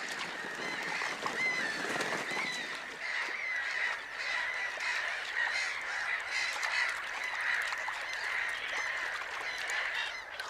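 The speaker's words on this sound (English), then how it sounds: "attracts flocks of black-headed gulls" A dense flock of black-headed gulls in Poland calls continuously, many harsh overlapping cries blending into a constant noisy chorus.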